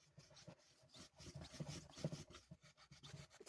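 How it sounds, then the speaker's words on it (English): A piece of tissue rubbed across a whiteboard, quiet dry scrubbing strokes in an irregular back-and-forth rhythm, close and faint, with no talking. "Let me just rub this out."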